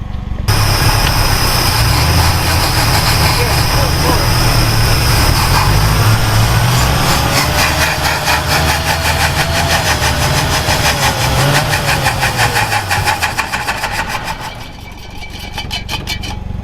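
A 1960 Ford Falcon Ranchero engine, left sitting for 20 years, catches and runs loudly and steadily up close, its rough idle with a wavering tone holding for most of the stretch before easing slightly near the end.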